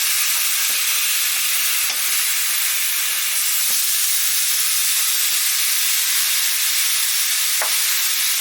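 Pork chops sizzle steadily in a hot pan alongside a vegetable and herb medley, a continuous loud frying hiss with a few faint clicks of turning.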